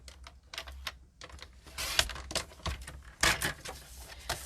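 Cardstock is cut to size for a fractured card, with a quick run of close, sharp clicks and scratchy slicing strokes in uneven bursts and no talking.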